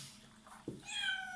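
A cat gives a single drawn-out meow that rises and then slides down, close and clear against a quiet room.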